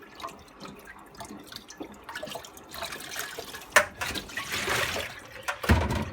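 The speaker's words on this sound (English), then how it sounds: "I put a bit of clean water on it and a bit of soap and try and squeeze it all out" Water and soap being squeezed out of a Henry vacuum cleaner filter by hand, with wet squelching, dripping and splashing close by, building in intensity toward the end.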